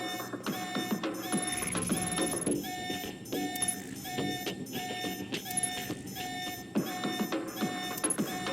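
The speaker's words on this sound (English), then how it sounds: "the alarm again" An electronic alarm in the video game Alpha Protocol sounds in repeated rapid beeping bursts with a steady pulsing rhythm, loud and persistent over low mechanical game ambience.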